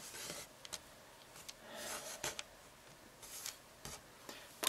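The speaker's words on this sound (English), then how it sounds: "So maybe time to cut it again. I'll cut it in half." A blade slices through soft modeling clay being rolled into beads, giving quiet rubbing and scraping strokes with a few small ticks. The sound is faint and close, with no talk.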